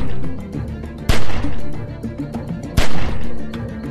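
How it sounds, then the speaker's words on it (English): Gunfire in The Walking Dead Telltale video game: two loud, sharp shots about a second and a half apart, set against a busy rumbling game soundscape. "Just shoot at the window and keep that fucker's head down till I get where I'm going."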